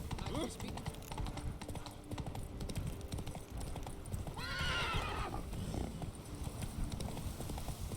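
A horse in The Witcher 3 gallops with a continuous rapid clip-clop of hooves, breaking into a clear whinny midway, set against other ambient game sounds.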